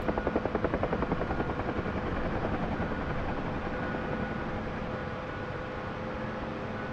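A UH-1H Huey helicopter in the DCS flight simulator: a steady, close turbine roar with fast rotor chop, which pulses strongly at first and then settles into a smooth continuous drone, with no talk over it.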